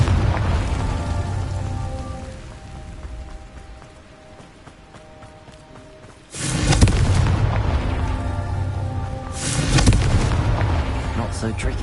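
Booming fire-spell explosions in the video game Hogwarts Legacy, two loud blasts with rumbling crackle following a quieter stretch of game ambience.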